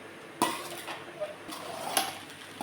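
Chicken fried rice being stirred in a pan over low heat, soft scraping and a few light clinks of a utensil against metal, intermittent and close but fairly quiet.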